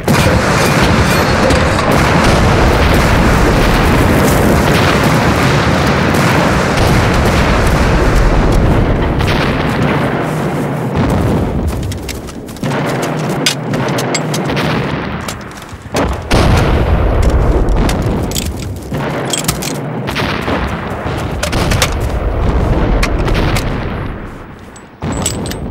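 Loud, sustained barrage of artillery blasts and booming detonations as shelling sets off landmines, heavy explosions overlapping at first, then breaking into separate thunderous bursts.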